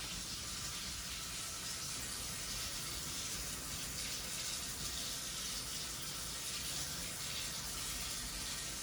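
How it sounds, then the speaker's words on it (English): A sink runs steadily in a back room of a former Minuteman missile alert facility, a constant broadband hiss of flowing water at moderate level with no talk over it. "I don't know why the sink is running back here"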